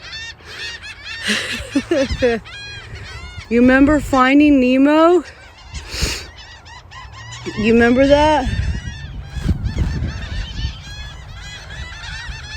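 Flock of geese honking loudly and repeatedly at a nature preserve, with overlapping nearby calls and bursts of chatter, while a person talks over them.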